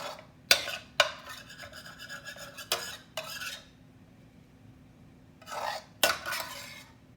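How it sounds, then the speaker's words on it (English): A cooked lean ground turkey and cabbage meat filling strains in a bowl, with sharp metallic spoon clinks and scraping against the bowl in several bursts, separated by quieter stretches of faint rustling. "So in this bowl here, I'm going to let it strain very well"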